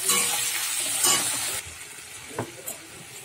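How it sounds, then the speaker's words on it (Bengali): Potatoes and chopped tomato stirred and frying in a pan with turmeric, a bright steady sizzle that drops after a moment, then a few scraping stirs close by. "ভালো করে আলুটা নেড়ে চেড়ে নিচ্ছি। টমেটো একটা কুচিয়ে রেখেছিলাম, ওই টমেটোটাও দিয়ে দিলাম।"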